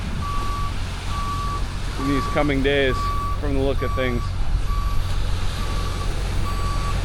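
Steady reversing alarm beeping at an even, regular pace from a truck, with someone talking briefly partway through over low outdoor rumble.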